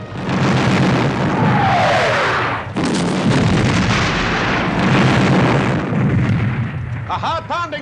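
Artillery bombardment in a battle scene from the 1970 film Waterloo: a continuous, loud roar of cannon fire and rumbling explosions, with a sudden break partway through before the heavy pounding resumes.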